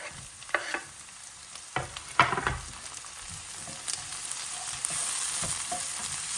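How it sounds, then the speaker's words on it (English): Tomatoes dropped into a pan of softened onions, a few loud close clatters and splashes giving way to a steady, rising sizzle of frying, with no voices. "I'm going to add the tomatoes."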